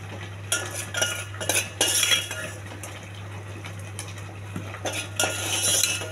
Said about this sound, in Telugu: ఈ తాలింపు తీసుకెళ్ళి ఈ ఉడుకుతున్న పొంగల్లో వేసేయాలండి